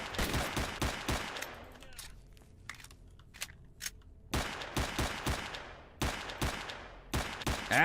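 Gunfire in the video game Stalker: volleys of sharp rapid shots, then a quieter lull with a few scattered cracks, then more close, loud bursts resuming.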